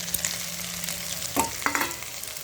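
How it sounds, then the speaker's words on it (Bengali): Chicken and vegetables sizzling and frying in a pan for chow mein, with a few scraping stirs of a utensil and soft clinks, close up with no talk. "সুন্দরভাবে নাড়িয়ে ভাজতে হবে নাড়াচাড়া করে"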